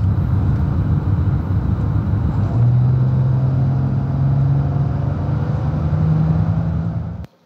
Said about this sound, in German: ein Mercedes CLK, und der klingt dann so